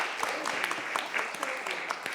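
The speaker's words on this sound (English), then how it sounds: "can we get a round of applause?" An audience at a symposium on race, imprisonment and transformative justice claps in a steady patter of scattered applause, moderately distant, with a voice speaking faintly underneath.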